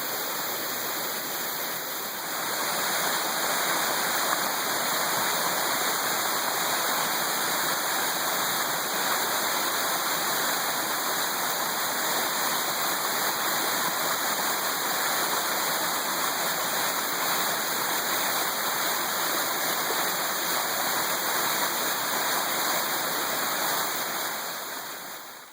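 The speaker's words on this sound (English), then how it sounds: "I'll leave you with a beautiful view of this beautiful waterfall." A waterfall roars in a steady, dense rush of falling water on a forested slope, loud and unbroken with no voices.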